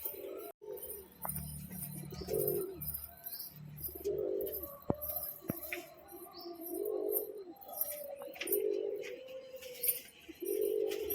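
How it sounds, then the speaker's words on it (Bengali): Pigeons on a hot rooftop cooing in repeated, rising-and-falling bursts, close by, with a few sharp clicks and faint chirps between calls and a quiet background hum; no speech. "ছাদ গরম হওয়ার কারণে পায়রা এখন ছটফট করছে আপনারা দেখছেন"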